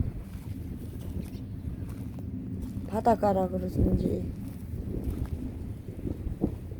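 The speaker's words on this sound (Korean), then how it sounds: "요즘에 몽산포 이쪽에는 매일 이렇게 바람이 많이 분답니다." Strong seaside wind buffets the microphone at Mongsanpo on the Korean coast, a steady low rumble throughout, while a person talks over it briefly.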